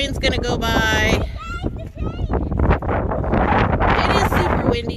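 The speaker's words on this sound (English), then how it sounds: "It is super windy down here." Strong gusts batter a microphone outdoors in cold, open riverside country in Nenana, Alaska, roaring and buffeting loudly throughout, with a person talking underneath the rumble.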